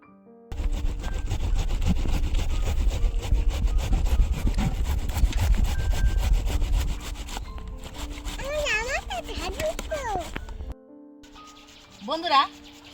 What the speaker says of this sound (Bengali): বন্ধুরা সব তরমুজের টুকরোগুলো ঘষে নিয়েছি, ঘষে আর রস বের করে নিয়েছি।